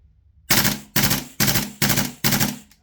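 An MWS gas blowback airsoft rifle fed from a Maru magazine fires five sharp, loud shots in an even rhythm, each with a crisp crack and a short mechanical clack, alone with no talk.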